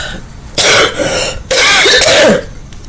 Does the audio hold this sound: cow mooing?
no